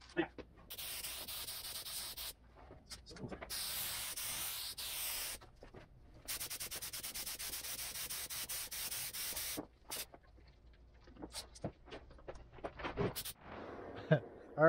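Paint spray gun hissing in bursts while coating a car, several loud sustained sprays of a few seconds each separated by short pauses, ending in a few scattered clicks and knocks.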